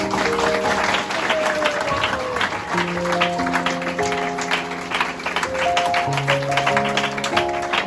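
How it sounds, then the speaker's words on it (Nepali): Applause from guests at a Christian wedding ceremony, steady dense clapping running the whole stretch while sustained music tones play alongside it. "दुलाई ताली बजाउनु।"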